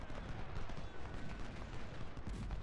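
Massed musket and rifle fire rattles in a Civil War battle in the strategy game Ultimate General: Civil War, a faint, continuous crackle of overlapping shots.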